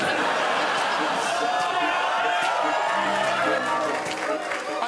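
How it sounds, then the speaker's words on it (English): A studio audience at a Taskmaster comedy task cheers and laughs in a steady, loud crowd roar that fills the whole stretch, with voices mixed in. "I don't know what you're cheering about."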